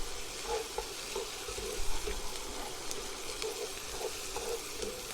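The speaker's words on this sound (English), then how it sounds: "Then we're gonna throw that steak in there. Make sure this pan is nice and hot" Steak sizzles in a very hot pan, a loud continuous frying hiss with crackling spits throughout.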